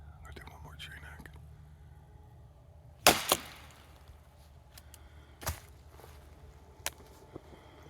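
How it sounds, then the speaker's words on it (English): Sharp wooden knock on a tree out in Ohio woods where Bigfoot is sought, a loud double strike, then a single knock a couple of seconds later and a fainter one near the end, over low background hum. "I'm gonna do one more tree knock."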